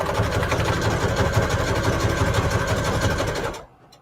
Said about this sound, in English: zigzag stitch.